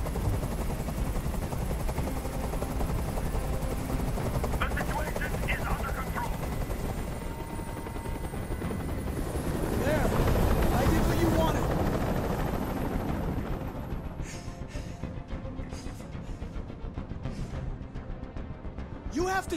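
A helicopter hovers in Detroit: Become Human, a loud continuous rotor roar swelling mid-stretch beneath bursts of gunfire, then easing off near the end.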